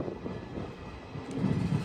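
A DEMU passenger train on the Secunderabad–Siddipet line runs onward after pulling out of Lagdaram station: a steady, close, broadband rumble and rattle that swells slightly toward the end, with no voices.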